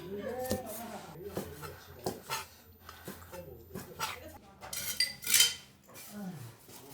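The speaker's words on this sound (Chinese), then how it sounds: "今天买的全部是肠头，切大的" Pork intestines are cut into large pieces with a knife on a cutting board, giving a series of sharp, close chopping knocks while a voice talks.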